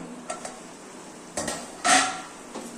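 A lid clatters onto a cooking pot where greens are simmering, a few sharp metallic clinks and scrapes up close, with one louder clank near the end and a low background hiss between them.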